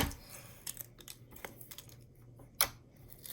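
Milky Way cereal-scented slime squished and stretched by hand, giving a string of small sticky clicks and pops, with one sharper snap near the end, close and fairly quiet with no talking.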